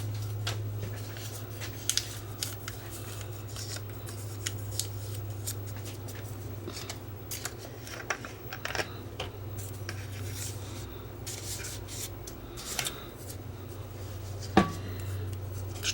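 Paper soaked in isopropyl alcohol is rubbed against the spinning video head drum of a Sony SLV555 VHS recorder, a close, continuous soft scrubbing and rustling over a low steady motor hum, with occasional small clicks.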